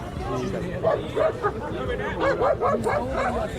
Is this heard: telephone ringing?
no